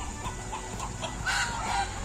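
Laying hens clucking inside a poultry farm coop, a steady murmur of clucks with a few louder calls standing out, close by and without talk.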